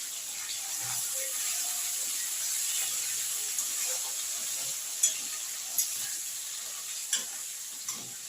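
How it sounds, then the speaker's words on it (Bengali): Small pieces of potato fry in oil in a pan, making a steady, moderate hiss. A few sharp clicks from stirring or utensil contact mark the second half, and no one speaks. "আলুগুলো ভাজা হয়ে গেছে"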